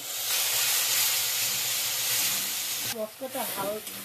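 Ground spice paste sizzling loudly as it hits frying onions in a pan, a steady bright hiss that holds for several seconds before a voice begins talking over it.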